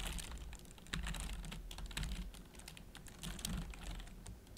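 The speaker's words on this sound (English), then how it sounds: "type in name, comma, age, comma," Typing on a computer keyboard during Python programming, a quick irregular run of soft close key clicks in small bursts, fairly quiet.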